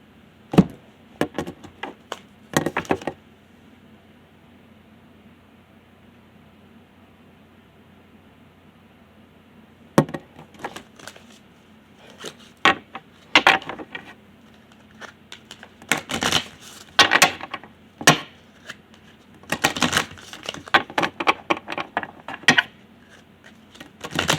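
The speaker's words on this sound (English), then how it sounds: "let's go ahead and shuffle for next week's or next time Zodiac reading." Bursts of a tarot deck being shuffled, crisp riffling rattles in short clusters separated by pauses, with one long quiet stretch, close and fairly loud.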